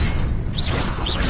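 The Revelio spell in Hogwarts Legacy is cast with a loud, dense magical burst, and two brief shimmering swishes sweep upward over it in quick succession.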